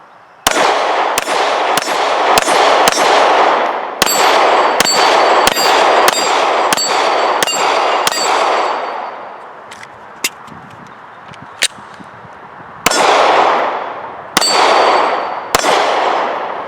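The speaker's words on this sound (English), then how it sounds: "So let's put a few more rounds through this gun." An HK VP9 pistol firing a series of rounds, sharp loud cracks in quick strings with ringing tails, a pause and a few sparse shots, then more rapid firing.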